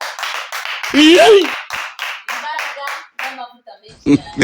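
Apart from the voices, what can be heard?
applause for the preacher in church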